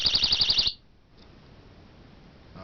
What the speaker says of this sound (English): When the pin is pulled, this device will emit a 135 decibel alarm.